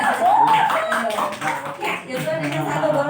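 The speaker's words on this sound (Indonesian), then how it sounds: "kita berikan tepuk tangan mereka berdua" Audience at a Sunday youth worship service in a church claps their hands steadily for two people, with voices and singing running over the clapping throughout.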